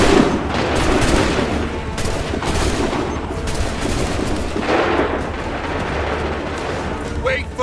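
Musket volleys roar through a battle in Assassin's Creed 3, dense overlapping shots cracking near and far over a continuous din, with shouting voices mixed into the fighting.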